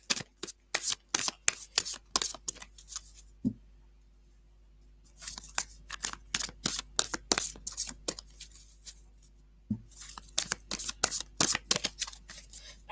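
A tarot card deck being shuffled by hand, giving repeated quick riffling bursts close up, with a pause in the middle before the shuffling starts again.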